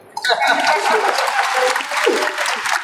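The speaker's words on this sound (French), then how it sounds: "Et ça s'applaudit, s'il vous plaît." Audience applauding during a Yu-Gi-Oh! TCG conference at Japan Expo 2025, a steady, dense wash of clapping that rises sharply and holds, with voices over it.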